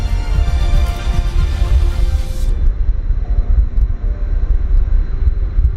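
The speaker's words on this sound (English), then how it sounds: "There goes the Garuda Indonesia Airbus A300-600 Romeo" Garuda Indonesia Airbus A300-600 passing in Microsoft Flight Simulator, a loud, steady roar of jet engines with deep rumble that continues unbroken, the high hiss dropping away partway through as it moves past.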